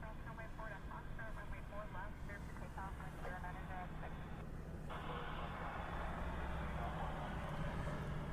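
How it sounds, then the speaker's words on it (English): An airliner departs the reef runway at Honolulu airport in rainy weather, a faint, steady distant jet roar heard beneath continuous talking. "that supposed Stitch livery is leaving the reef runway right now"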